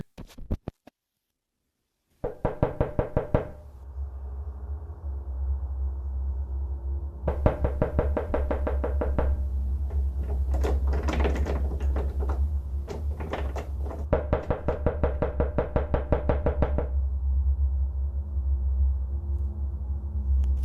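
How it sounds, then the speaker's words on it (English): Slow, deliberate knocking on a front door comes in several bursts of rapid, regular raps, loud and close with a low hum underneath and quiet gaps between the sets. "The sounds of someone or something knocking on Nat's front door can be heard"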